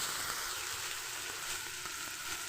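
Ginger garlic paste frying in oil with pointed gourd and potato, a loud, close, continuous sizzle with faint stirring and no talk.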